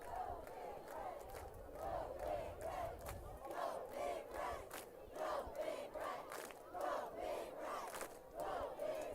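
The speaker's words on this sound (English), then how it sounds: "Crowd's into it now." The crowd at a high school varsity football game between Crete and Mt. Michael chants and cheers in rhythmic, repeated bursts, a distant, faint crowd sound swelling and falling in a steady pattern.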